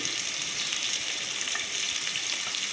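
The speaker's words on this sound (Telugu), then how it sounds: "కొంచెం కరివేపాకు ఒకసారి కలిపేసుకొని కొంచెం ఫ్రై అయ్యే వరకు మూత పెట్టేస్తాను." Chopped onion and green chillies sizzle steadily in a hot pan, a dense, close, continuous frying hiss with faint stirring and no talking.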